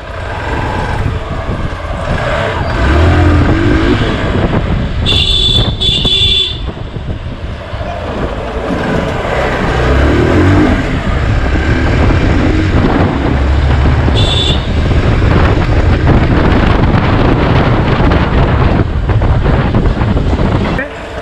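A Hero Xpulse 200 BS6 motorcycle rides through the city, its engine rumble running continuously under loud wind buffeting on the microphone for the whole stretch.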